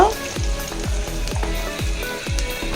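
Minced garlic frying in oil alongside softened onions, with a steady close sizzle broken by regular stirring scrapes for a fish bhuna; no talking.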